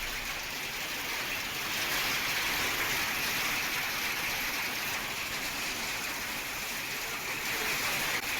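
Steady, dense rainfall with wind on a cold winter day, a continuous even hiss of drops on surfaces that holds at the same level throughout, with no voices.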